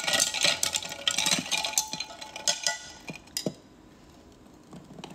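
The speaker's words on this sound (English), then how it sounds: "we're gonna stir." A spoon stirs iced coffee in a glass, making quick, bright clinks and rattles of ice and metal against glass that fade out into near quiet.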